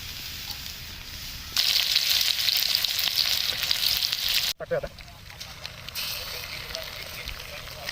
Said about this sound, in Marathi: आता तेल टाकून घेऊ आपण.